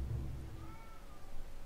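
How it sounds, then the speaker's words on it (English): A cat meows in the background, one drawn-out, wavering cry with a faint tonal rise, heard behind low rumbling game sound. "I'm sorry about that meowing in the background."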